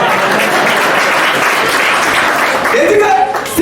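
Loud, dense applause from a live comedy show audience fills the whole stretch, a steady wash of clapping with a voice starting to speak over it near the end.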